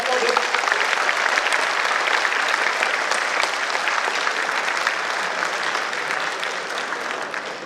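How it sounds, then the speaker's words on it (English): An audience at an academia-industry and alumni summit gives a big, sustained round of applause, steady dense clapping lasting several seconds and easing slightly toward the end. "just give a big round of applause for this"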